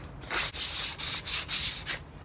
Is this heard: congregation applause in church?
no